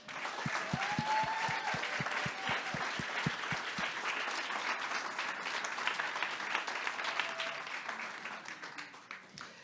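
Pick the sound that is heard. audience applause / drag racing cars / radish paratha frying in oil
audience applause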